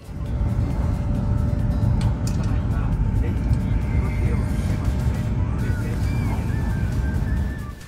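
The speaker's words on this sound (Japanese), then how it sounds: "モーター音を聞いていただくとわかると思いますが、ここら辺から一気に加速を開始し" A Joetsu Shinkansen pulls away from Omiya with its motors whining upward in pitch as it accelerates, over a loud steady cabin rumble, with a voice talking throughout.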